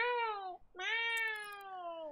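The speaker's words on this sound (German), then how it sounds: "Ich glaube, ich träume heute Nacht von dem Gemauze der Katze." Two drawn-out, harmonic cat meows from The Sims 3 game, loud and close, with a short gap between them and no talking.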